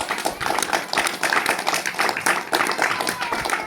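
A church prayer congregation claps hands loudly and continuously, a dense stream of overlapping claps with rhythmic surges, close and full throughout.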